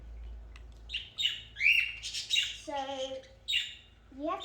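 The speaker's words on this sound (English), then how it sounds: "We also have a few more birds in here" Pet birds such as cockatiels squawk and chirp indoors in a run of several bright calls, some harsh and some tweeting, fairly close with no talk.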